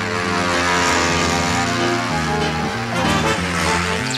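A toy propeller plane drones steadily, its buzzing engine pitch shifting up and down as it flies nearby.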